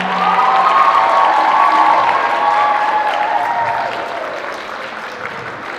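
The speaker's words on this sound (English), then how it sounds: "I would like everyone to give a round of applause to Professor O'Rourke" A loud, sustained round of applause with some cheering from the audience at a college white coat ceremony, honoring a professor. The dense clapping gradually eases off toward the end.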